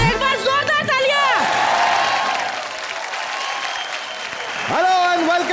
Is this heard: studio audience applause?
yes